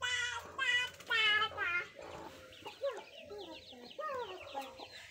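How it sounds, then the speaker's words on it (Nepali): A mother hen clucks among her newly hatched chicks on a farm, her repeated low clucks mixing with bursts of thin, high chick peeps; a few voices are briefly audible nearby. "यहाँ फेरि अर्को माउले अर्को लट चल्ला निकालिसकेको छ"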